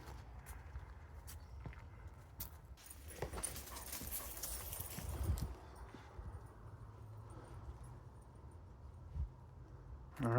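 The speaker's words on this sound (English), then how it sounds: "I don't know whose dog that is." Horses on a trail clip-clop at a walk with scattered hoof falls and soft footsteps, a dog moving among them, fairly faint and outdoors with low background rumble.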